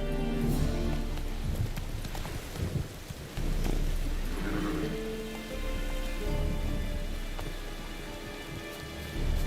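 Geralt's horse Roach gallops through a rainy Witcher 3 game world, steady hoof clops running under constant rain with a low rumble of thunder, no voices.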